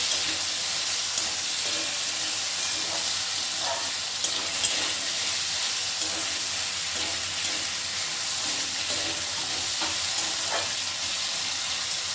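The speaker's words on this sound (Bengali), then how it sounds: "প্রায় মিনিট খানেক ধরে আলুটা আমি একটু নাড়াচাড়া করে ভেজে দেবো" Potatoes frying in a pan for a plain white potato curry, with a steady bright sizzle throughout and occasional soft scrapes of stirring, close and continuous with no talk.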